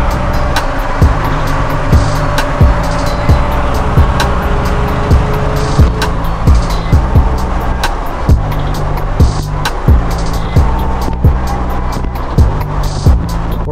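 900HP Ford Mustang engine roaring loudly on rollers, a sustained heavy mechanical drone with rhythmic pulsing and clattering, close and constant throughout.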